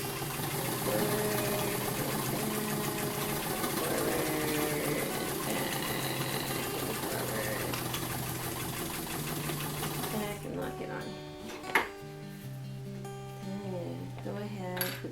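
A sewing machine stitches a heavy feed bag into a firewood carrier, running in a steady continuous hum with a rhythmic mechanical whir for about ten seconds, then stopping and starting in short bursts with a few clicks and clinks.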